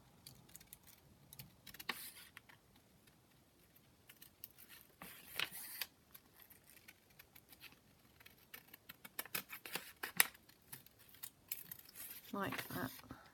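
Scissors snip around a paper calendar page for a junk journal envelope, a quiet run of small irregular cuts and paper rustles with brief louder crinkles near the end.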